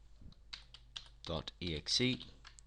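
Soft clicks of typing on a computer keyboard, a few light taps followed by a brief cluster, with a murmured voice partly over them.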